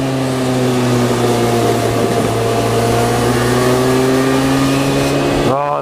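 A car engine held at high revs while driving, a loud steady whine with strong harmonic tones throughout, then dropping off abruptly at the end as the throttle is cut; voices talk over it.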